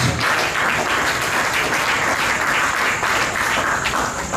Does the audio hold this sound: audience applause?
yes